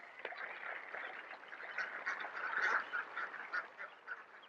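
A group of ducks quacking together in a busy, continuous chatter at moderate distance, with no talk over them.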